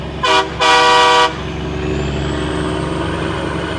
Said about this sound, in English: I have it wired to my city horn.